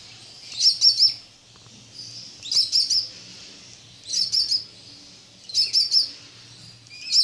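Budgie chicks chirp under the mother bird in bursts of several high, thin tweets roughly every one and a half seconds, close and otherwise quiet.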